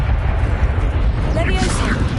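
Incendio fire spell cast in Hogwarts Legacy, a loud roaring burst of flame with a low rumbling whoosh sustained over a brief moment, bright crackling effects rising near the end.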